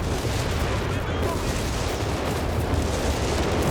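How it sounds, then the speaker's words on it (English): Artillery barrages and gunfire in a Company of Heroes 3 3v3 battle on the Gazala Bunker Grounds map, a dense continuous rumble of booms and shots mixed with battlefield noise, steady and loud throughout. "Zeroing artillery on the other 17-pounder, that's out of commission."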